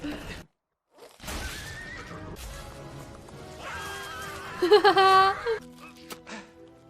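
A horse whinnies loudly near the end of a scene from the animated film Tangled, a bright shaky neigh rising over busy background sound and clatter, after a short lull.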